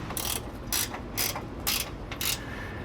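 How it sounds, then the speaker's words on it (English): A ratcheting 9/16 wrench snugs down a nut while a helper spring is fitted on a 2016 Nexus Phantom motorhome, making five quick bursts of ratchet clicks in an even rhythm, close and alone. "we also have a ratcheting one here to make things go a little bit easier"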